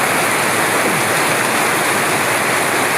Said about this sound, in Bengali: প্রবল বর্ষণ ধারা